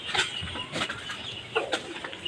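Free-range desi hens and their chicks cluck softly in a backyard coop, short scattered clucks and peeps over a faint rustling background.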